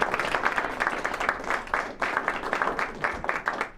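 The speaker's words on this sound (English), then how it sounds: "now you can clap" Audience applause after a tribute to Senator Shaheen at a talk on support for Ukraine: steady dense clapping from a roomful of people, even and sustained throughout without voices over it.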